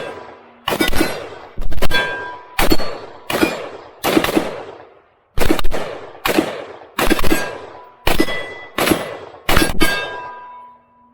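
Rapid rifle fire from a PSA AR15 fitted with a red dot: about thirteen loud, sharp shots in quick clusters with ringing metallic tails, close and continuous apart from a brief pause midway.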